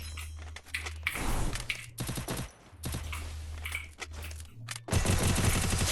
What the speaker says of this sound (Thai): โทษทีปืนมันลั่นครับน้องปืนมันลั่นที่ไม่ได้ตั้งใจครับ